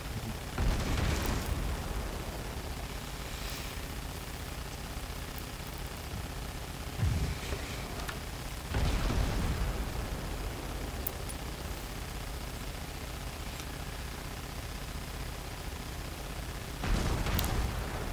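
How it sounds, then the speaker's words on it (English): Naval gunfire from the cruiser Cleveland in a naval video game, with heavy booming salvos at the start, around the middle and near the end, over a steady low rumble and no talk. "so firing the two turrets like this"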